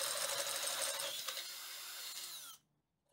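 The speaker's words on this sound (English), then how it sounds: "I also need to drill a hole in the bottom of the tubing for another cable gland." A power drill bores a hole into the metal tubing of a band saw under restoration, a loud high whine that drops in pitch as it bites, then cuts off abruptly into silence.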